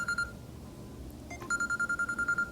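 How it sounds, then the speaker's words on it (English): A phone rings with an incoming call: short repeated electronic tone bursts, a brief pattern at the start, then after a pause a steady series of about eight rapid pulses, fairly quiet. "And I'm getting a phone call."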